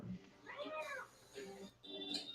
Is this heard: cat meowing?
yes